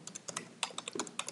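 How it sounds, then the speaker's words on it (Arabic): A computer keyboard clatters as keys are pressed, including the Enter key: a quick, close run of light plastic clicks in an uneven typing rhythm over faint room hiss. "لما ادوس انتر"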